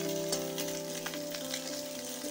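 Shol fish sizzling in hot oil in a pan, a dense steady crackle with scattered sharp pops, close and continuous, no talk.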